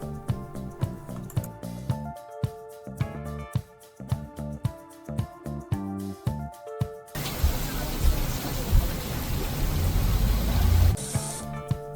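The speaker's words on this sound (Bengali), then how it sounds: "মুষলধারে বৃষ্টি হচ্ছে, তার মধ্য দিয়ে আমরা ছুটে চলেছি বিশাল সমুদ্র পাড়ি দিয়ে নোসা পেনিদার উদ্দেশ্যে।" Heavy rain pours down on a boat crossing the open sea to Nusa Penida, Bali, heard as a dense, steady rushing hiss that takes over after several seconds of rhythmic music and continues to the end.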